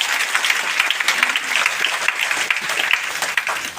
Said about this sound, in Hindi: यहाँ पे एक जोरदार ताली बनती है सभी महिलाओं की